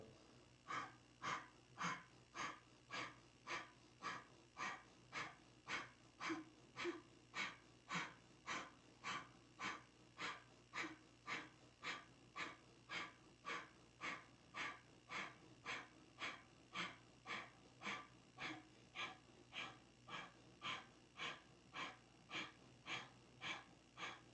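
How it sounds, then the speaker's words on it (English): Rapid, forceful rhythmic breath-of-fire breathing during a Kundalini yoga session, done lying on the belly with the body lifted; sharp, even nasal pumps repeat steadily at close range for the whole stretch, with no talking. "So let's come onto our belly and lifting up, breath of fire."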